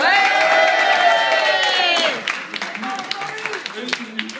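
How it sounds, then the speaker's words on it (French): A crowd cheers and applauds loudly with whoops for about two seconds, then the clapping thins to scattered claps under nearby voices. "Petite ronde d'applaudissements pour Béné."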